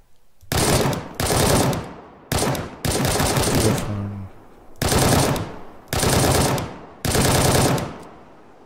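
Automatic bursts of AK-74 rifle fire in the video game Arma 3, seven loud sustained volleys of rapid shots separated by short pauses, close and alone with no talking.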